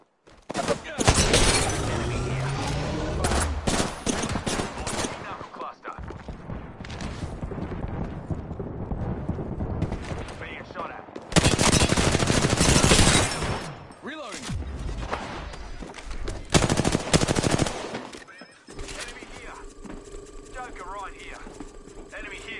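Bursts of gunfire in a PS4 shooter match, loud dense volleys in several clusters with quieter stretches between, heard alongside game sounds and a player's voice.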